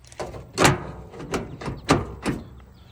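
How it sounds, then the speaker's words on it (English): Someone struggles with the stuck door of an old Ford truck, making a string of uneven metallic clunks and thumps, close by and fairly quiet. "of course the door don't want to open right when I say that"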